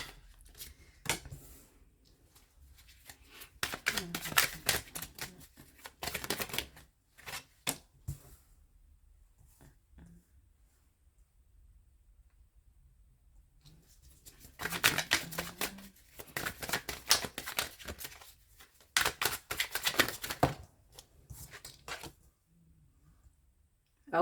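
Tarot cards are dealt and laid out on a table in several bursts of brisk shuffling, slapping and sliding. Quiet pauses fall between the bursts, all close and fairly soft, with no voices.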